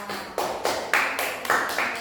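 A classroom of students claps for a student group, a short burst of several loud, overlapping hand claps in quick succession, close by and alone without talk.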